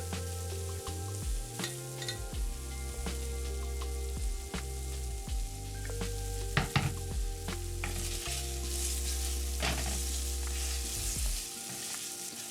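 Garlic oil and crushed red pepper sizzle loudly and steadily in a pan of Penne alla Vodka sauce. Occasional spoon clatter and stirring scrapes run through the continuous hiss, with no voices.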